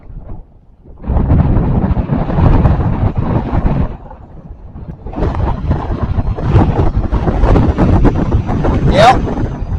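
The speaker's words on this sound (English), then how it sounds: "That's a gust. That had some like sustain to it." Powerful gusts of wind from Hurricane Idalia making landfall roar into the microphone, building suddenly, easing briefly, then surging again with sustained force and a brief whistling tone near the end.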